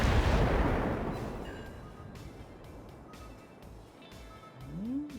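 Naval support gunfire in the World of Warships sea-battle game: a heavy booming salvo opens loudly, then fades into a long rolling rumble, with faint distant cracks and a rising tone near the end.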